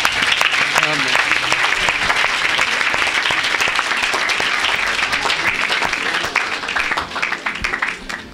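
A church congregation bursts into sustained applause and cheering during a worship service, the loud clapping rolling on steadily before thinning out near the end, with voices mixed in.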